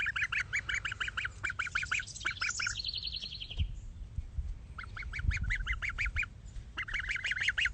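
Geese honk repeatedly at close range in a backyard flock kept alongside chickens, their loud nasal calls coming in rapid bursts with short pauses between them.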